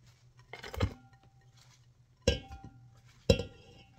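A few distinct clinks and clatters of cabbage moved into an enamel pot, three main bursts separated by quiet gaps, close by.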